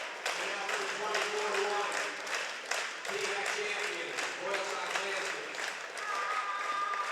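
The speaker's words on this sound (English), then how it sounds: "Listen to this crowd here" Loud, steady crowd noise fills a gym at a Loyalsock vs Wellsboro boys district championship basketball game, with cheering and applause-like roar from a student section running throughout, with shouted voices mixed in.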